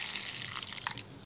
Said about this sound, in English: I'm filling up the rest of the container with my distilled water